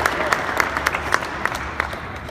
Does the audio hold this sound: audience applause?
yes